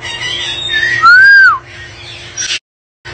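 Birds at a rural farm whistling nearby, one clear, loud rising-and-falling whistled note with fainter chirps around it, followed by brief silence.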